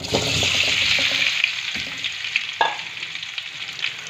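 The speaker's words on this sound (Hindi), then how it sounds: "और अब आलूओं को भी फ्राई करूंगी लो आंच पे" Potatoes fry in oil over a low flame in a pan, a bright sizzling hiss loudest at first and easing off, with a few scraping stirs breaking in along the way.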